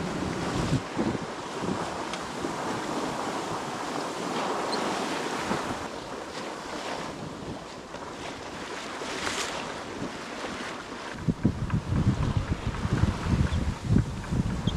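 A sailing boat pushes through sea waves on a breezy day of about 15 knots off the west coast of Scotland, with continuous wind buffeting and water rushing along the hull, growing louder and choppier toward the end.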